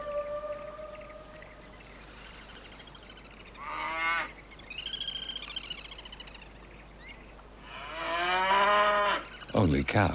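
Cattle moo across a swamp where reeds are cut for thatch, several long, drawn-out calls at moderate distance rising out of a quiet marsh background, the loudest coming near the end.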